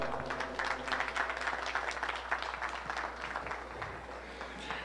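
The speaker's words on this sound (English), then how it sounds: "let's give these juniors a round of applause" An audience at a 4-H provincial beef cattle show claps for junior exhibitors in a champion two-year-old class, a steady, faint patter of many hands in a large hall.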